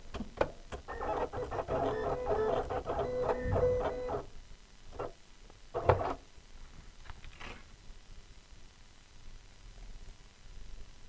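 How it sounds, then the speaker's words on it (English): A Silhouette Cameo cutting machine makes a test cut on glitter heat transfer vinyl, whirring and buzzing rhythmically for several seconds, then giving short motor bursts and clicks, close and clear. "before I cut it, I'm going to make sure I do a test cut"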